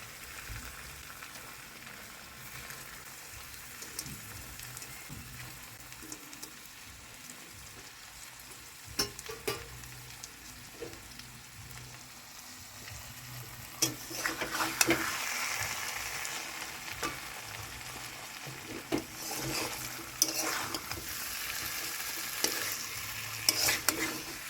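Pointed gourds (potol) fry in a pan with a steady sizzle and occasional stirring scrapes, growing louder and busier toward the end, with no voices.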